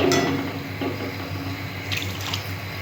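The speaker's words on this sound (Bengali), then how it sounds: "এবার আমি জল দিয়ে দিচ্ছি পরিমাণ মতো জল দিলাম" Water pours into a pan of frying spice paste for a fennel-flavoured katla fish curry, a steady near splash and trickle running for about three seconds with no talking.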